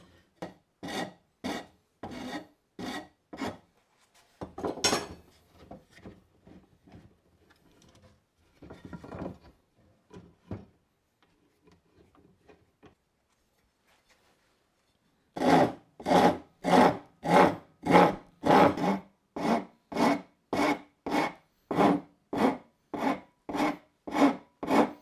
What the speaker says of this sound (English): if you can find an old Farrier rasp or file